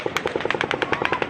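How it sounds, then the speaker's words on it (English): Automatic gunfire at the Route 91 event pops in a rapid, evenly spaced volley of about a dozen sharp shots, loud and continuous with no voices over it. "the 7th volley of automatic gunfire begins"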